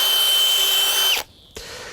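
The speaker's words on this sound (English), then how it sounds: "But what we do is basically drill holes like that all the way around." A long drill bores loudly into a pot-bound plant's 40 centimetre pot, one steady whining run of about a second that cuts off abruptly, followed by a brief quieter burst.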